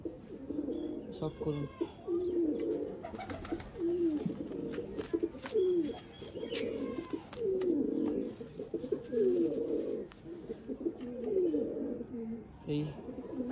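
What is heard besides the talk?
pigeons cooing, tournament pigeon breeds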